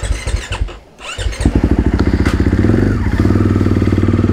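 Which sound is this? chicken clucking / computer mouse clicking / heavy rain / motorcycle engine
motorcycle engine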